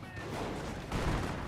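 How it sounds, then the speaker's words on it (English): Artillery barrage in the strategy game Company of Heroes, a steady wash of distant shell blasts and gunfire swelling louder partway through, with faint game chatter underneath. "I think that's a decoy barrage."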